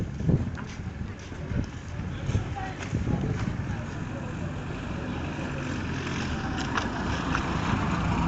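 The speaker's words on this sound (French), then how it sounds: "C'est donc le bruit que vous entendez, c'est le bruit des voitures." Cars pass along a busy road in a steady stream of rumbling traffic noise, with rising and fading swells of passing vehicles at middle distance under intermittent talk.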